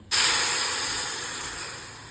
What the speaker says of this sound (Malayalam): ചായ ഇവിടെ നന്നായി തിളയ്ക്കുകയാണ്